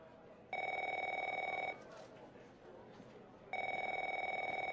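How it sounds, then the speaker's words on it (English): An old-style telephone bell rings in the video game The Operator, two loud, even trills separated by a pause with faint background sound. "Answer the phone."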